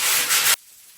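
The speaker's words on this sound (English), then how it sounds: "One more sanding step here before we move on to the painting part." A half-second burst of close, raspy sanding on a bathtub surface being refinished, stopping abruptly and leaving near silence.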